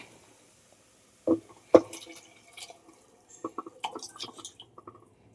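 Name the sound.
pouring beef and stock into pan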